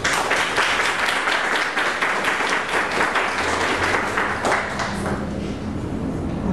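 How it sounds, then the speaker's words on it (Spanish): An audience applauds a poet with loud, dense clapping that carries on steadily before thinning out at the end. "muchas gracias por ese aplauso"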